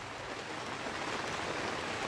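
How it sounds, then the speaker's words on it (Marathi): Rain falls steadily outdoors in a village during the monsoon, a soft continuous hiss with no voices. "तर परत एकदा पावसानं सुरुवात केला ना"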